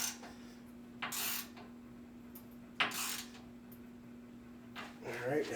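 Bolts are tightened on a 2017 Polaris winch during a cable replacement, with a few scattered metallic clicks and scrapes over a steady low mechanical hum and faint background noise.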